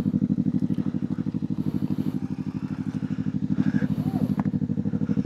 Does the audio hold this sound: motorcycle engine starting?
yes